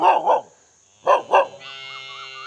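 A dog barks twice in quick pairs, close by at a village house near Oddanchatram, then a steady electronic tone hums on after the barking stops.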